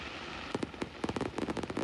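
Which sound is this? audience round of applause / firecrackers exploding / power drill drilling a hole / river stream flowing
firecrackers exploding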